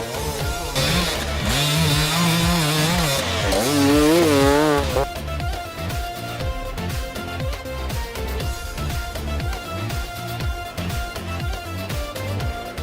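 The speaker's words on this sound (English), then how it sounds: "Luke Walker of Barker's Warehouse absolutely thrashing it up Blake's Hill on that Husqvarna weapon of choice" A Husqvarna enduro motorcycle engine revs hard as the bike is thrashed up a steep hill during an extreme enduro race, a loud, raspy two-stroke-like drone with rising and falling revs that stays steady and close throughout.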